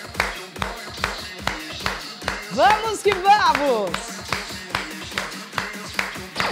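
Hands clap in a steady rhythm during an exercise class, sharp regular claps close by while an instructor speaks over them.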